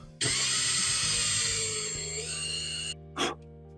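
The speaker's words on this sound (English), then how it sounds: "I'm going to pre-drill some holes in these, just so when I screw them in, they don't split." A power drill bores pilot holes into wood for screws on an allotment, a loud sustained whine that runs close for nearly three seconds, stops abruptly, then gives one short burst.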